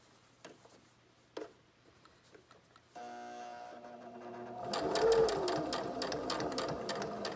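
A sewing machine stitches a fabric mask, starting with a few light clicks before the motor runs up into a steady, close, rapid mechanical whirr and rhythmic needle chatter.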